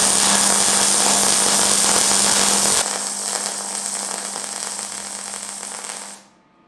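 GYS 162 MIG MAG welder running 0.8 mm wire at a near-minimum feed setting, giving a loud, steady crackling buzz with a constant hum that drops in level partway through, then stops abruptly.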